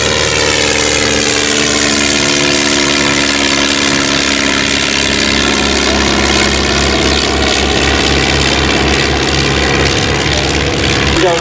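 Blackburn B2 and de Havilland DH82A Tiger Moth vintage biplanes at an evening airshow, propeller engines droning steadily and loudly nearby for the whole stretch, with a faint voice underneath.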